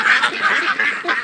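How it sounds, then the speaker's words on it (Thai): Yi Liang breeder ducks quack in a busy, overlapping chorus at morning feeding, the loud nasal calls following one another in quick bursts at close range. "พ่อแม่พันเป็ดอีเหลียงเรานะครับ"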